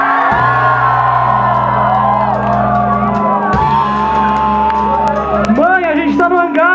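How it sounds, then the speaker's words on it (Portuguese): A concert crowd in a packed hangar venue lets out a loud, sustained shout and whoop for the camera, with many voices yelling together up close and cheering swelling toward the end. "Todo mundo dá um grito bem alto aqui pra câmera,"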